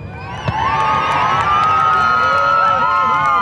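Spectators cheer and whoop loudly at a jousting tournament at Warwick Castle, a sustained roar of crowd voices with children's high shouts and rising whistled calls carrying across the open arena.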